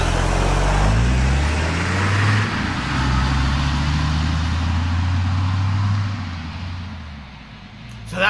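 A truck engine in the video game The Quarry idles low and loud, its rumble shifting in pitch before fading away toward the end, with voices speaking over it.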